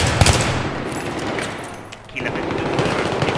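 Battlefield 3 gunfire crackles in rapid automatic bursts during a team deathmatch, loud and near, with a brief lull before the shooting resumes.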